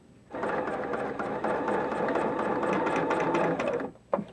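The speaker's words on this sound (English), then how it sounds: "start to stitch and curl the edge of the fabric over so that the raw edge of the fabric lines up with the notch mark on the machine" A sewing machine stitches a rolled hem on fabric, running steadily with a rapid, even mechanical whir for several seconds before stopping, followed by a single soft click.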